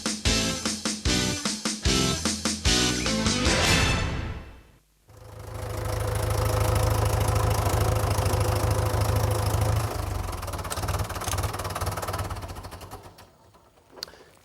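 Mercedes diesel car engine running, a rhythmic clattering idle heard close up, then a sustained steady engine drone with a broad rumble that fades toward the end.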